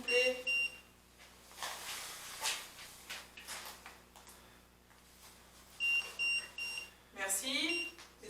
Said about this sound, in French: Faites biper le K2 que j'ai dans les mains,